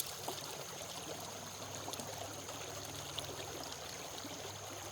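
Water pours and trickles over rocks as clay is washed off during gold prospecting outdoors, a steady soft flowing rush with occasional small splashes and clinks, fairly quiet and close.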